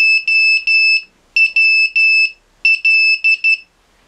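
An Arduino Nano Morse code project sends loud, clean, high electronic beeps in three separate groups. Each group mixes short and long tones, with brief silences between groups.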